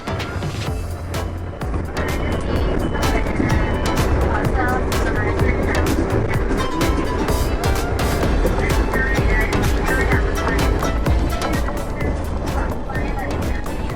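The interior of a Daewoo Express coach from Lahore to Bahawalpur on an expressway, with a loud, steady engine and road drone throughout and voices faintly mixed in.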